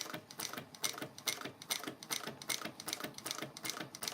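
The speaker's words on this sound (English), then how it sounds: "I'm just top stitching around the accordion wallet" A sewing machine top stitching around an accordion wallet runs in a fast, even mechanical clatter, close and steady for the whole stretch with no voices.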